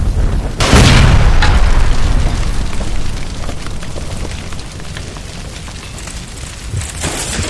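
A gas line blows up beside a stove in the video game L.A. Noire, a sudden loud boom followed by a long roaring, crackling rumble of fire that fades slowly without dying out.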